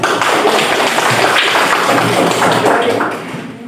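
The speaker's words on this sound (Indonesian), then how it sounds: "beri aplaus untuk kelompok" Classroom applause for a student group, a dense burst of many hands clapping loudly together, fading near the end.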